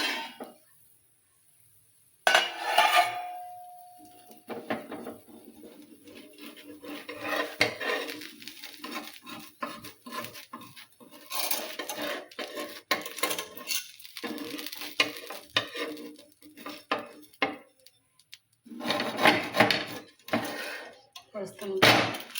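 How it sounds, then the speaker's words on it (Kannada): A cover plate lifted off a hot pan and a methi (fenugreek leaf) uttapam flipped with a metal turner, giving scattered close clinks and scrapes of metal on the pan between stretches of someone talking. "ಈಗ ಪ್ಲೇಟ್ ತೆಗೆದು ಹೊಳಸಿ ಹಾಕ್ತೇನೆ ನೋಡ್ರಿ."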